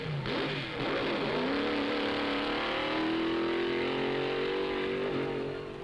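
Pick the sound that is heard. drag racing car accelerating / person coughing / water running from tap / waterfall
drag racing car accelerating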